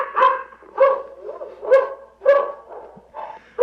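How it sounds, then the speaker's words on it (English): Several dogs bark in a steady run of about six sharp, fairly close woofs spaced roughly half a second apart, with no talking over them. "let's start the program with your dogs in the background"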